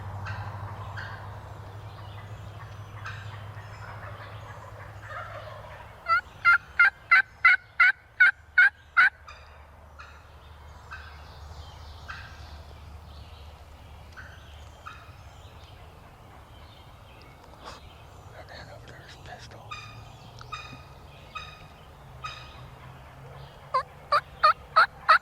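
A wild turkey gobbles in a field on a rainy day, with rapid rattling gobbles in a burst, a few scattered calls, then another burst near the end, moderately distant over quiet ambient noise.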